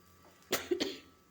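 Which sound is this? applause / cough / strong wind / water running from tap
cough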